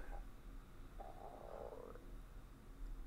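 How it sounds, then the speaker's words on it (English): A hungry stomach rumbles during a classic Tetris broadcast, a low gurgling growl that swells for about a second in the middle, faint against steady background noise. "Hope you didn't hear that. That was my stomach."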